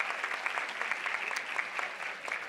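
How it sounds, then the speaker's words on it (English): Sustained applause from a seated audience at a women's empowerment luncheon, dense steady clapping from a crowd that continues evenly throughout without voices standing out. "Let's give them a round of applause."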